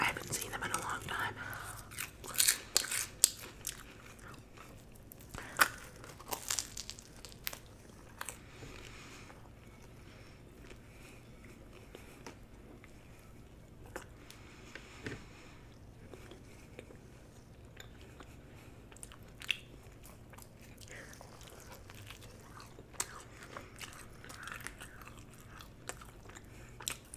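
Close-up chewing and biting of frozen pizza, Mama Celeste style, with soft wet mastication and occasional crunchy bites, intimate and quiet with scattered louder clicks.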